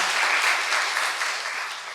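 A church congregation gives a short burst of steady, moderately loud applause, dense clapping filling the room and tapering slightly toward the end.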